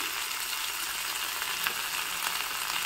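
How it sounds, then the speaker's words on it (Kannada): Oil drizzled over a traditional huli dish sizzles in a pan as a dense, even hiss, steady and close throughout the short stretch, with no talking. "ಮೇಲ್ಗಡೆಯಿಂದ ಸ್ವಲ್ಪ ಎಣ್ಣೆ ಬಿಡ್ತಾ ಇದ್ದೀನಿ ನಾನು"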